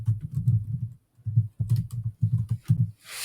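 Rapid clatter of computer keyboard typing in close bursts, with a short pause before the keystrokes resume in quick runs.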